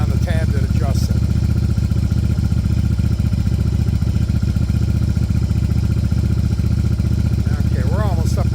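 Yamaha Virago 750 chopper motorcycle engine running at a high idle, a steady close rumble with rapid even firing pulses throughout, and someone talking over it.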